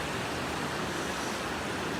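A river at Athirappilly flows somewhere below, producing a constant broad roar with a windy edge. The sound is even and distant, and a brief thump comes at the very end.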